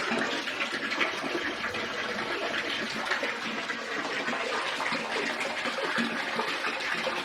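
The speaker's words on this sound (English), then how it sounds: "There's your toilet, it's a squat toilet." Steady rushing and gushing of water from a squat toilet at Annapurna Base Camp in the Nepal Himalaya, a continuous close, fairly loud flow without pause, no talk.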